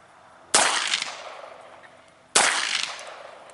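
A late-war Walther P38 pistol fires two sharp, loud shots about two seconds apart, each cracking close by and then ringing out in a decaying echo, with no voices.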